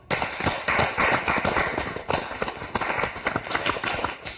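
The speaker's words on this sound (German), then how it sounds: "Ich denke, das ist ja mal auf jeden Fall ein Applaus wert, oder?" Studio audience at a German reality TV reunion show applauding, a dense, loud, continuous patter of many hands clapping with no talking over it.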